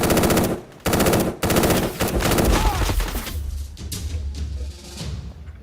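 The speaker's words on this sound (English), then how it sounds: "there's more fireworks popping off outside" Rapid bursts of fireworks going off outside during a celebration, loud crackling volleys in dense runs, then scattered lower booms and pops fading under background noise.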